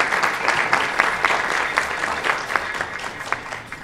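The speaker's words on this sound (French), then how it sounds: "Applaudissez pour vous-même." An audience at a French-language evening panel discussion applauds steadily, a dense patter of many hands clapping from start to finish with no one speaking.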